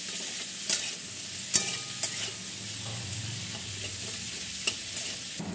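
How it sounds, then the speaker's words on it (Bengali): Chilli chicken with capsicum lightly frying in a pan, a continuous soft sizzle broken by a few sharp clicks of a spoon or spatula stirring against the metal, with no talking. "এটা হালকা ফ্রাই করে নেব"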